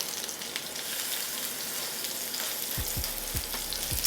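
Seasoned salmon fillet sears presentation side down in a hot skillet, giving a steady close sizzle and crackle throughout, with a few soft low thumps near the end.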